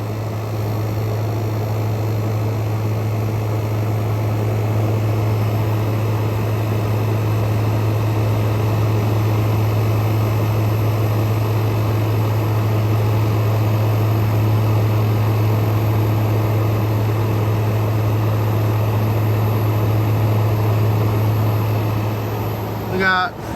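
A Frigidaire Gallery GHWQ103WC1 10,000 BTU dual inverter window air conditioner, with its compressor ramping down, gives a loud, steady low hum and droning whoosh that holds evenly across the whole stretch, close by and without pauses.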